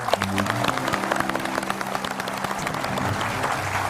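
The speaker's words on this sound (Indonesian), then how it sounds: "Tepuk tangan buat 86" A studio audience on an Indonesian TV talk show claps in a dense, steady burst for a few seconds. Faint tonal music or voices sit underneath the clapping.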